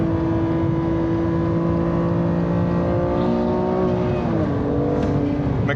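A McLaren GT3 race car engine drones steadily nearby, its pitch holding and then shifting as it passes, loud and continuous without any voices.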